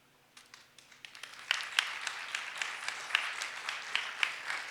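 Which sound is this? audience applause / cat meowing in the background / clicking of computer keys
audience applause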